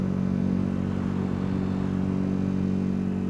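A motorcycle is ridden at a steady pace, its engine a constant, even mid-pitched drone with no clear revving changes, close and fairly loud, with no talk.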